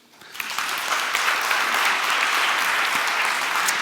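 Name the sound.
audience applause for a chess contestant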